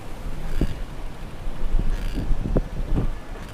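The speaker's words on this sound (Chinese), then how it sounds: "今天风很大" Strong gusty wind on the riverside of Shamian Island, a steady broadband roar with low rumbling buffets that swell and fade throughout, close to the microphone, with no speech.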